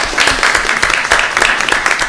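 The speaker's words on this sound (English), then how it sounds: "let's give them all a big round of applause this evening" Applause from the audience at a school board meeting, steady brisk clapping from a roomful of people throughout, fairly loud and close, with no talking over it.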